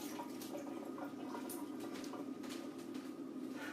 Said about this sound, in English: When it comes time to use them, you're just going to rinse them off.